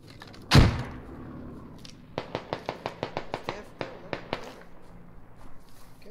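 A grenade explodes in a video game with one sharp, heavy boom, followed after a pause by a rapid series of about a dozen short thumping bursts, close and loud.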